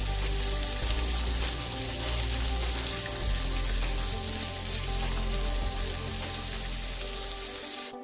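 Onions and shallots with salt sautéing in a pan for a soya chunks curry, giving a steady, even sizzling hiss that holds throughout, with no voices.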